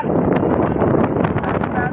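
Strong wind buffeting a microphone aboard a boat, a loud continuous low roar and rumble with gusty fluctuations, a faint steady high tone, and speech mixed in.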